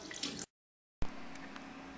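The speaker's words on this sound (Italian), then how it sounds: "Sciacquare bene tutto finché l'acqua non è pulita" Makeup brushes are rinsed under a running tap, the water giving a soft, steady splashing hiss that cuts out briefly and then resumes close by.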